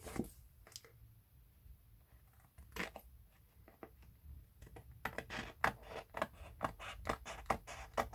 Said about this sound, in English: I'm going to use these bigger scissors actually, they might be a bit better.